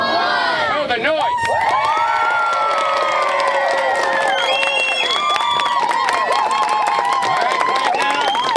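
A crowd of children at a live juggling show cheers, shrieks and claps loudly all at once, a continuous roar of high voices and applause with no pause.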